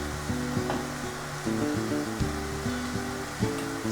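Tomato puree cooking in a pan with minced meat, peppers and courgettes for lasagne, a steady close sizzle with repeated scraping stirs and tonal scrapes over it.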